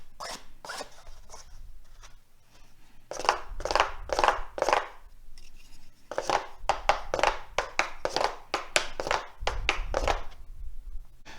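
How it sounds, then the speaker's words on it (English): A wooden spoon scraped rhythmically like a scraper, quick rasping strokes in clusters of four to six, close and crisp with short pauses between runs. "you can also use a wooden spoon to play like a scraper"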